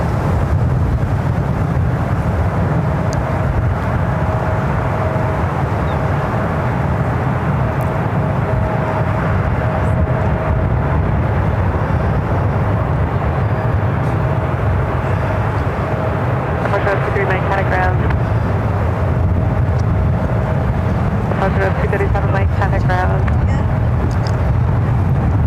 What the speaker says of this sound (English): This is Emirates Flight 226 taking off to Dubai on the A380.